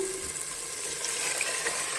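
Water is poured steadily into a cooking pot while making egg biryani, a short continuous splashing stream at moderate level.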